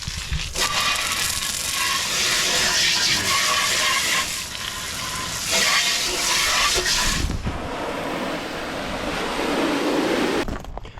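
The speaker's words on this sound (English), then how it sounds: "give it a quick hose down" Water from a hose spraying down grills at a campsite tap, a loud steady hiss and splash that shifts in intensity as the spray moves around.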